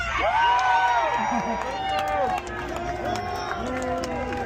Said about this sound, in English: Cheer for me if you are from the southern part of the United States.